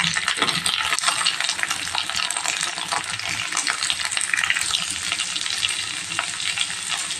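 Onion and curry leaves sauté in a little oil in a kadai, giving a steady close crackling sizzle with occasional stirring clinks, continuous and fairly even throughout.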